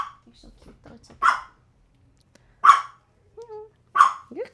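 Several dogs give three sharp, separate barks close by, with a brief whine in between and quiet voices at the start.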